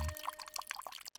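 A small splash of water poured into a drink in a film scene, a brief close trickle and drip lasting about a second.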